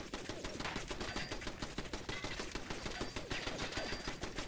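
Rapid automatic gunfire rattles in a continuous burst during Fallout 4 combat, with dense repeated shots at a steady, even loudness throughout.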